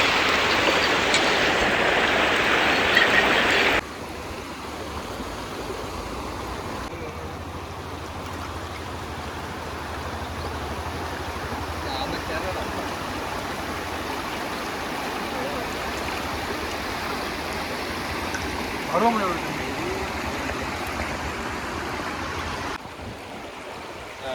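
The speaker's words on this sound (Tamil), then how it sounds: "இப்போ இங்கே வச்சு நம்ம சிக்கனை கழுவி முடிச்சிடலான்னு இருக்கோம்." Running water pours steadily over cut chicken pieces being washed outdoors for biryani. The flow is louder for the first few seconds, then settles into a constant splashing stream.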